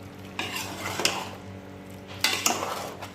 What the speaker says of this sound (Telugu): ఒకసారి కలుపుకున్నామండి.